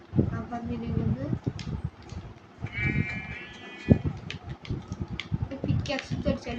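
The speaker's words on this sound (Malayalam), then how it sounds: "ഇവിടെ കുറെ ആടുണ്ട്" A goat in the Minecraft video game bleats once, a short, wavering, nasal cry in the middle of a busy mix of game sounds, while a player talks over it almost continuously.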